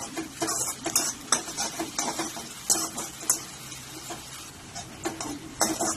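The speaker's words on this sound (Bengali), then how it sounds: "মশলাটাকে এবার আমরা ভালো করে ভেজে নেব।" A ground paste of onion, ginger, garlic and tomato is stir-fried in a pan, giving repeated scraping strokes of a spoon with a soft sizzle underneath, fairly close and moderately quiet, with no talking.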